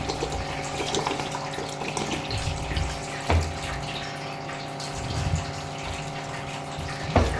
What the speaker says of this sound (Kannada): ನೀರು ಹಾಕ್ಕೋಬೇಕು ಸ್ವಲ್ಪ.